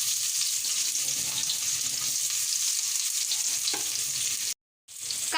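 Chopped onions and green chillies fry in a pan while being stirred, a steady close sizzle with occasional scraping strokes, cut by a brief silence near the end; no one speaks.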